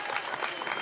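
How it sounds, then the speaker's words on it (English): A brief burst of crowd applause at an arts launch and outreach event, steady close clapping filling the short moment. "A big round of applause"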